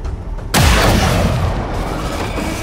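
A single heavy shot fired in XCOM 2 video game, a sudden loud boom after a brief quiet moment, followed by a long rumbling decay that fades slowly.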